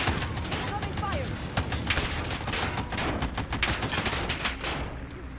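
Dense automatic gunfire in the Warzone video game, rapid overlapping bursts of shots with sharp cracks, loud and continuous through the whole stretch, with voices talking over it.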